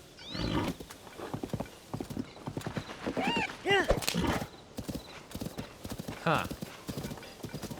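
In Zelda: Tears of the Kingdom the horse Kumo gallops in with steady clip-clopping hooves and lets out several loud whinnies, while a voice speaks briefly over the game sounds.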